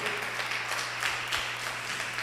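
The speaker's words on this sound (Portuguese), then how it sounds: "Dá uma salva de palmas para Nossa Senhora aí." Audience applause during a Catholic talk in Portuguese, a steady wash of clapping at moderate volume over a low constant hum.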